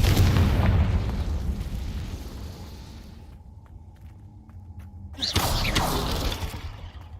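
A Confringo fire spell explodes in Hogwarts Legacy: a loud, booming blast that rumbles and fades over a few seconds, then a second burst of crackling, explosive noise, with no talking.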